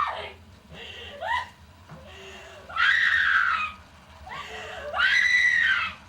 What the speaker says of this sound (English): Cue that scream here.